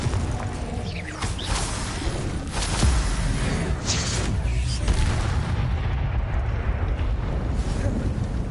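Fiery blast spells explode during a Hogwarts video game battle, making a loud, continuous roaring rumble with heavy booms that swell and fade across the fight.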